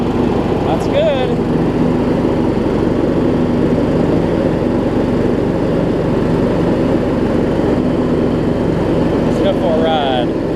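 Close, steady drone of a Troy-Bilt Horse riding mower with a Kohler Courage engine, running evenly at idle and loud throughout, with a brief voice-like squeak near the start and end.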